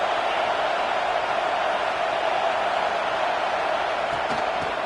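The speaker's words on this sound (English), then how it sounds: "Listen to the crowd energy here in the early going" Stadium crowd noise from the NCAA 26 college football video game: a constant, loud wash of roaring fans in a hostile road environment, steady throughout with no distinct cheers or voices standing out.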